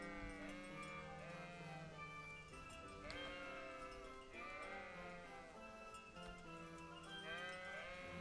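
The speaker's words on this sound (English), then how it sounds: "So now we're wrangling sheep." Several sheep in the medieval video game Kingdom Come: Deliverance bleat repeatedly, with overlapping, wavering calls close by and one after another throughout, without speech.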